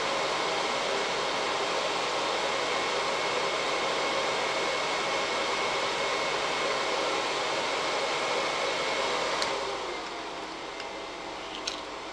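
A homemade 300-watt heat gun blows hot air in a steady, loud hiss that runs unbroken for most of the time, then drops slightly quieter near the end with a few small clicks.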